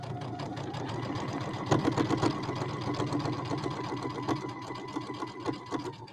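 Sewing machine stitching two lines up the bottom of a fat quarter origami bag, a steady fast run of needle strokes with a motor hum, close and continuous for several seconds.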